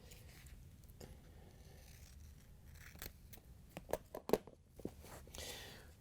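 Aluminum heat shield for a range being cut to length with scissors, a few sharp snipping and crinkling bursts near the middle over a quiet, hissy room background.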